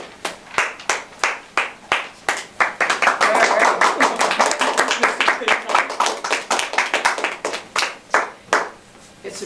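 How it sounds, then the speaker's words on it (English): Toastmasters meeting members applaud their acting president, starting with steady rhythmic claps, swelling into a fuller round of applause, then settling back into rhythmic clapping, close and clear. "It's a tradition of Toastmasters to always applaud the person leading the lecture and back to their seat."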